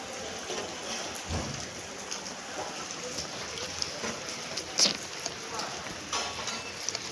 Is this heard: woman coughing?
no